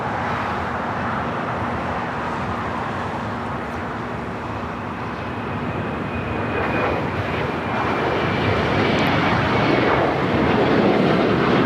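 A fifteen-year-old Boeing 737-900ER jet rumbles loudly at LAX, its steady engine roar building gradually as it prepares for takeoff on the runway.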